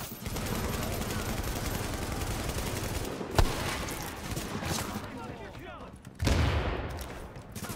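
A light machine gun in The Division fires long sustained bursts, loud and dense, broken by a sharp blast and a pause before another heavy stream of fire; a voice talks over it.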